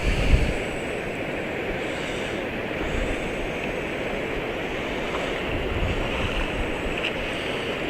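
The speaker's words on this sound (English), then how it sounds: "Water rushing in here with nowhere to go." Floodwater rushing and flowing steadily through trees near a flooded cornfield after Hurricane Irene, a broad continuous roar of moving water with wind buffeting the microphone, no voices.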